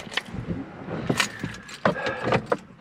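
Car keys jangling as they are picked up and handled before a drive in the countryside, several sharp metallic clinks and rattles in uneven bursts, close by, with no talk over them.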